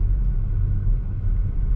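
A turbocharged BMW pulls away gently through a quiet neighborhood, its engine a steady low rumble heard close up from inside the car, with no talking.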